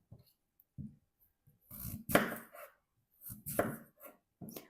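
A knife dices an apple into fairly large cubes on a cutting board in a few irregular, close knocks separated by short pauses.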